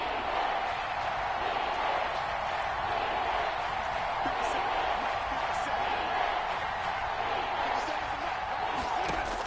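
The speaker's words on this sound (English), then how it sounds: "the crowd getting into it as we come up on a big 3rd down" Football stadium crowd roaring and cheering before a big third down in a Rams vs 49ers game, a dense continuous wall of noise with no talk over it.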